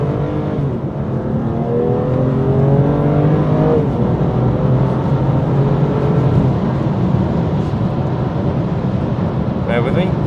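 BMW M2 Competition accelerating hard while overtaking on a public road, heard from inside the cabin as a loud, steady engine roar with rising tone, with a voice talking over it throughout.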